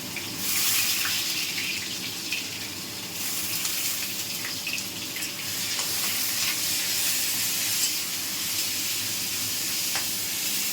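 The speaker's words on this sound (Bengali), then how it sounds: "পেঁয়াজটা ভাজি, পেঁয়াজটা একটু লাল লাল করে ভাজা ভাজা হয়ে গেলে" Onions fry in hot oil in a wok with a spoonful of sugar added, making a loud, continuous close-up sizzle with faint watery crackle and no talking.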